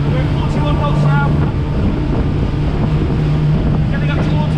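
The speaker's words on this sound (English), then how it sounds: "you hear the engines more on this boat" An Axopar 37 motorboat engine drones loudly and steadily at around 41 knots, with wind buffeting the microphone and water rushing past, in November off Helsinki.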